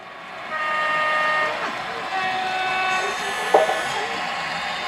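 Model locomotives on a train layout, among them Great Northern E-units, sound their horns. Sustained, tonal horn blasts ring out fairly loud and close, with overlapping chords and a brief clank partway through.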